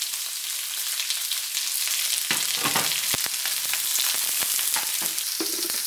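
Onions and ginger stir-frying in a hot pan with chili and green onions, a loud continuous sizzle broken by sharp crackles and bursts as the pieces are stirred.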